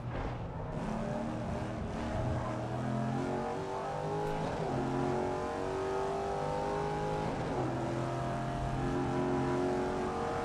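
A racing car's engine revs hard under sustained throttle, a loud, close, continuous roar whose pitch climbs and shifts through the gears for the whole stretch with no talking.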